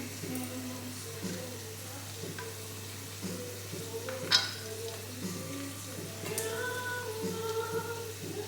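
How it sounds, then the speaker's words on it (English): Plantain and bami frying in a pan, a steady crackling sizzle with occasional stirring scrapes and a sharp clatter midway, continuous throughout. "There we are, frying the plantain and frying the bami."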